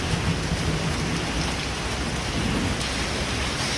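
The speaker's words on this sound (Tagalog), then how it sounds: "kahit umuulan, nakakapaglakad pa rin kami ng maayos" Heavy rain pours steadily in Singapore, a dense even hiss of drops on surfaces with faint low rumbles underneath, close and constant with no voices.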